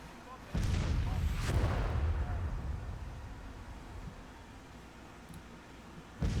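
Artillery battery firing in Grand Tactician: The Civil War, a heavy booming volley that opens loudly and rumbles on, with a second blast near the end, all under battlefield din.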